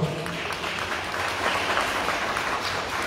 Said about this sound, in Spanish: Fuerte los aplausos, por favor.